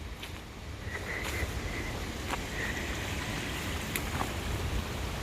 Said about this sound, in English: Yes, it is grey and rainy in the United Kingdom of Great Britain